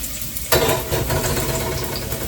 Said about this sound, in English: Let's add the garlic. There you go, you hear that sizzle?